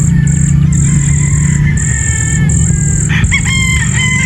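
A Boston Roundhead broodstag rooster crows loudly and close, a few drawn-out strained calls following one another over a steady low background hum.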